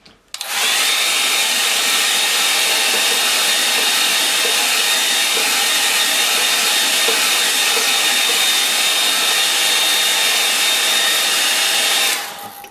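Hair dryer blowing on a wet-in-wet watercolour painting, a steady close whooshing roar with a high whine that switches on abruptly and runs continuously for about twelve seconds before cutting off.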